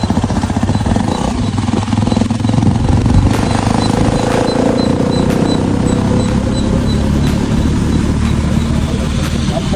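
Motorcycle engine droning steadily while riding, with low rumbling and wind noise throughout, the rider downshifting and slowing the bike on an outdoor ride.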